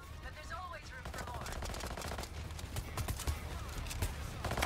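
Rapid gunfire rattles in bursts during a heist in the video game Payday 3, mixed with a dense wash of game effects and chatter from players talking over it.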